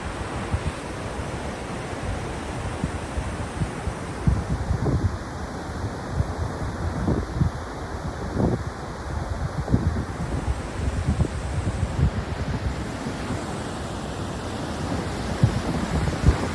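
Cold wind gusting at a lookout above Kinuseo Falls in Monkman Provincial Park, a steady roar of rushing air with buffeting thumps against the microphone, loud and continuous throughout.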